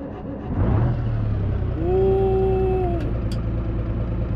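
A car engine starting from the interior view in BeamNG.Drive, a short crank followed by a loud, steady engine hum that holds close and even for several seconds.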